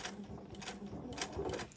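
A sewing machine stitches a shirt collar blind along the presser foot, its needle chattering in quick, faint, uneven bursts at close range.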